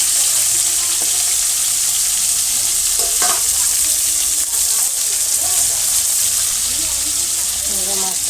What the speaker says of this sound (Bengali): এবার মাছটা লাল লাল করে ভেজে নেব বন্ধুরা।